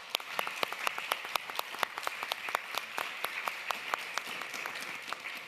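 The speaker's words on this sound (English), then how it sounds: "if I can ask you for a round of applause for our panelists" An audience applauds panelists at the close of a session on AI and digital tools for climate-resilient agrifood systems, a steady dense patter of many hands clapping throughout, moderately loud and somewhat distant, with no talk over it.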